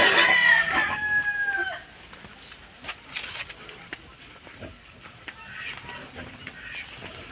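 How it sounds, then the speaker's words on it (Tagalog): A rooster crows loudly right at the start, then chickens cluck and scratch more faintly at a native farm setting in Bohol, with light ambient farmyard noise behind. "Chicken."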